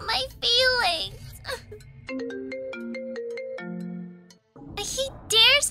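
A mobile phone ringtone for an incoming call plays a bright, steady electronic melody for a couple of seconds, loud and close, with someone speaking on either side of it.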